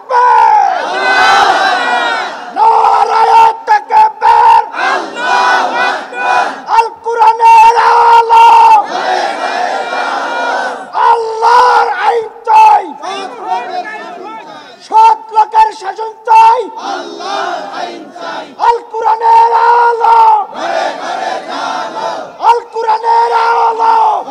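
A large crowd at a religious gathering in Nagarpur, Tangail, Bangladesh loudly chants slogans in a rhythmic call and response, close and forceful, with one voice leading and many voices answering in repeated bursts.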